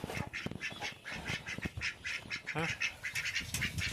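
Ducks quack repeatedly in a busy, overlapping chorus, fairly close, with steady rhythmic calls throughout.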